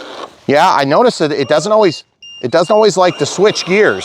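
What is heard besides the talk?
voltage alarm beeping on Redcat Gen9 RC trail truck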